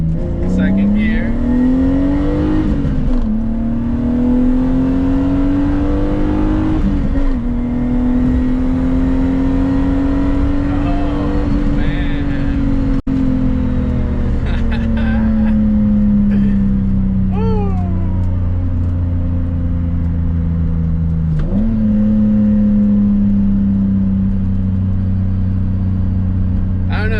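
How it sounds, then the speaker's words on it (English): A car engine accelerates hard on a road in Mexico, its note climbing steadily with each gear, then dropping sharply at each shift in a repeated rev-and-shift pattern, loud and close from inside the cabin. "this car sounds good. Sounds really good."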